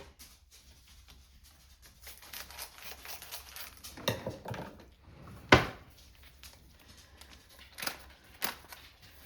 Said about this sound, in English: our cheese sauce mix, which for some reason you always have to open with scissors